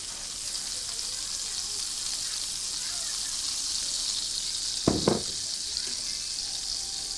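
Butter and olive oil sizzle in a pan while blackened salmon is being made: a steady close hiss of frying, broken near the end by a couple of sharp clanks of utensils against the pan.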